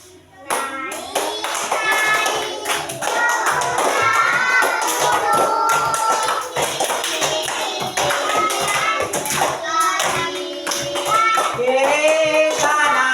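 Elementary school children clap their hands in a steady rhythm while singing the Indonesian children's song Naik-Naik ke Puncak Gunung together in a classroom, the claps crisp and continuous under their voices.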